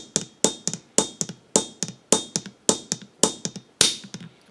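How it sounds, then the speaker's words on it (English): A hammer strikes a hickory nut again and again, about eight sharp close knocks at a steady rhythm, each hit followed by a quick lighter rebound tap. "Take that hammer and hit that ridge"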